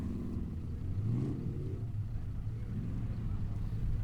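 A street-legal Formula Offroad truck named Þeytingur drives a competition track in Hella, Iceland, giving a low, rumbling engine drone with brief revving surges at moderate distance.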